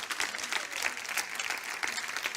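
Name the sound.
congregation applause and cheering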